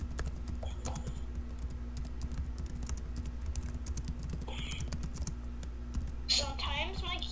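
Rapid keyboard typing on a laptop rattles along throughout, close and steady, over a low droning hum and game background sounds, with a brief burst of chirpy high-pitched noise near the end.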